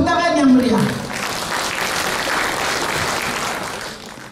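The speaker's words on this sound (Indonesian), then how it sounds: "Tepuk tangan yang meriah." Applause rises from the congregation at a church anniversary gathering of PGI Wilayah DKI Jakarta, a steady wash of clapping under a fading tonal sound at the start.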